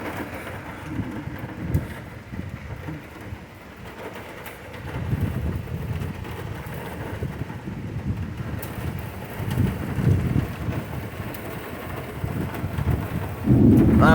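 Heavy rain pours steadily through a thunderstorm on an August evening, with low rolling thunder swelling in several long waves and wind buffeting the microphone, heard from close by near a porch with no talk.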